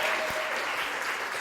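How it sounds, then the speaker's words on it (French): A church congregation applauds newly baptized people at a Sunday service, dense continuous clapping filling the whole moment. "On peut les applaudir."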